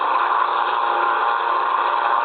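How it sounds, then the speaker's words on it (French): A Tupolev SB-2 bomber's engine in the video game War Thunder: a steady, even drone with a whirring hum holds constant throughout, loud and unbroken, with nobody speaking. "j'aime bien le bruit du moteur. Il fait un joli bruit."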